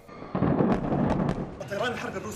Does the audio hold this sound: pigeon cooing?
no